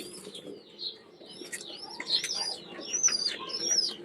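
Pigeons in an open rooftop aviary, with a mix of soft chirps, calls and a brief wing flutter from the flock at moderate distance, with no voices.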